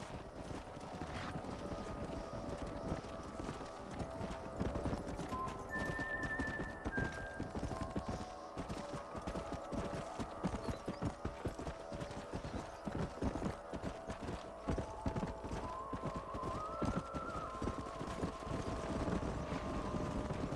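Horses in the video game Red Dead Redemption gallop continuously, with rapid rhythmic clip-clop hoofbeats and wind rushing throughout.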